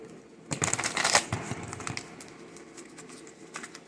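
A tarot deck being shuffled up close, with a brisk burst of riffling card flutter followed by softer shuffling rustles that fade away.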